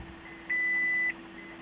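Warning beep from a Toyota Prius signalling that the key has left the car: one steady, moderately loud electronic tone lasting about half a second, over faint background hum.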